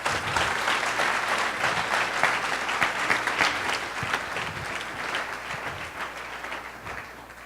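A church congregation bursts into sustained, dense applause during a Spanish-language worship service, many hands clapping steadily and loudly for the full stretch before easing off slightly at the end.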